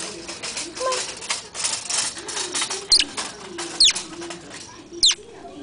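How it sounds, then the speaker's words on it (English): Shrill chirps from a baby sparrow inside a store cut sharply through a steady indoor murmur, with three or four bright calls spaced about a second apart near the end. "So the bird call came. A baby."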